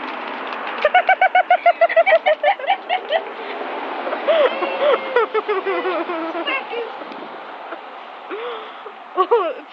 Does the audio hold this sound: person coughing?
no